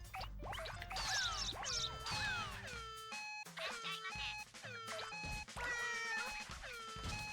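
A cartoon cat meows over and over in Katamari Damacy on PS2, with short bright mewing calls in quick succession over busy game music and effects.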